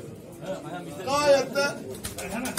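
Pigeons from a farm in Polatlı coo inside a box at a bird auction in Ankara, with soft rolling coos rising and falling close by amid a murmur of human voices.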